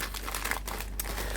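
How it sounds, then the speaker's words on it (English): A cut-open plastic package crinkles and rustles continuously as it is pulled further apart during a diamond painting unboxing. The sound is close, soft and steady, with a few brighter crackles and no speech. "I've already cut it open, so there will be a little bit of rustling"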